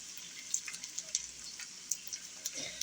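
A big batch of potato hash cooking in a large cast iron frying pan, a quiet sizzle with soft crackles and small pops scattered irregularly over a faint steady hiss.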